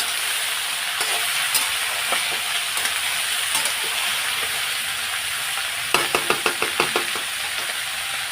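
Potatoes fry in a home kitchen pan with a steady sizzle, and stirring scrapes and clinks rise in a quick run near the end.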